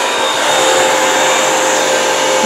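A Bissell CrossWave vacuum cleaner runs steadily and loudly up close on an area rug, a continuous broadband roar with a faint high whine and no pauses.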